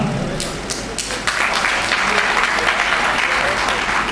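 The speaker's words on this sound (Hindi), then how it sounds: "भाई ताली में कंजूसी ना करिएगा, नहीं मेरा जो ठंडा हो जाएगा। ताली वक्ता की जान है" An audience at a Pasmanda Muslim community district conference in Sultanpur claps loudly and continuously, a dense crowd applause sustained throughout with a voice faintly mixed in.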